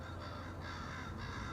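Crows cawing at a moderate distance, a few harsh calls in quick succession over a faint outdoor background, no talking.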